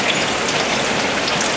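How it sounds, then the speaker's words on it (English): Heavy rain pours down on an Oklahoma farm, a dense, loud, continuous hiss of drops striking surfaces close by, with no talking. "Well, we got a good rain."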